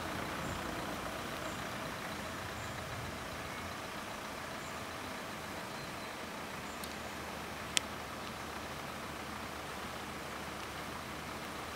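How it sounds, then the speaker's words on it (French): Road traffic near a mill in the Essonne valley with a truck passing, a steady broadband roar of vehicles, moderately distant, with a brief sharp click partway through. "Pas mal de circulation"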